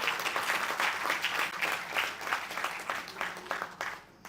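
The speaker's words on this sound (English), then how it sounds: "I think he deserves a big round of applause." Audience at a Sierra Leone chapter induction ceremony applauding in a thick, continuous wash of clapping that slowly thins toward the end.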